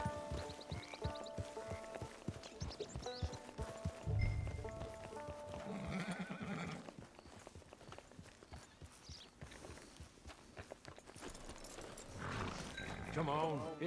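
Horse hooves clip-clop in the video game Red Dead Online, mixed in with game music, animal bleats and voices talking.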